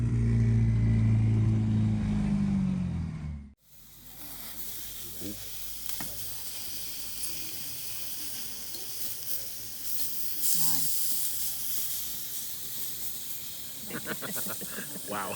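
A huge raw steak sizzles on a scorching-hot serving stone, a steady hiss and crackle that starts just after a loud burst of other sound cuts off and continues alone for the rest of the clip.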